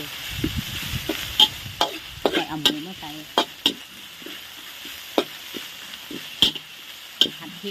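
Mushrooms stir-fried in a pan with pounded chilies give a soft sizzle under repeated sharp clacks and scrapes of a spatula against the pan, close and uneven in rhythm.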